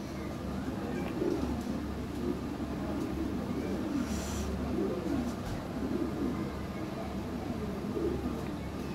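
Lahori pigeons coo softly and repeatedly, low rolling calls rising and falling at a moderate distance, with faint background noise throughout.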